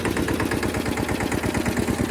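A tractor engine running while ploughing a cotton field, a close, steady mid-to-low chugging with a rapid even pulse and a slight knocking rattle, heard alone with no talk.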